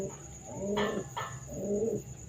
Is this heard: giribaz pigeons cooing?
yes